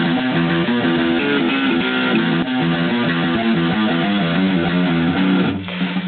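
Electric guitar chugging through a song's intro with distorted power chords stepping down the neck by half steps, loud, dense and continuous, with no voice over it.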